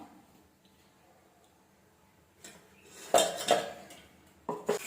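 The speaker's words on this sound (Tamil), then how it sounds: "அப்படியே மூடி வச்சிடலாம்." A lid clanks onto a pot of banana-flower kola urundai kuzhambu after a quiet stretch, giving a few sharp metallic clinks and rattles close by.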